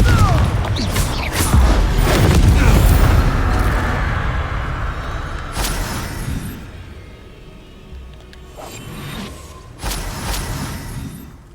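Confringo fire spells exploding in a Harry Potter video game, a heavy rumbling blast with crackling debris followed by several sharper bursts and impacts, loud and close with game sounds layered around it.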